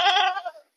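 A single ram goat gives one short, nasal bleat, close and clear, fading out quickly into silence.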